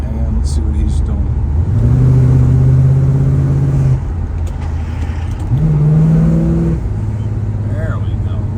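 A 1972 Plymouth Road Runner engine revs up through its gears, pitch climbing, dropping at each shift, then climbing again, loud and close with the steady rumble of driving.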